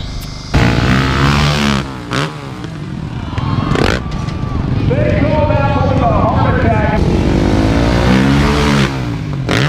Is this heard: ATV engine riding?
yes